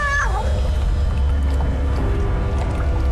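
A cat meows once at the start, a short rising-and-falling cry over steady low background noise, the rest of the scene filled with ambient rumble.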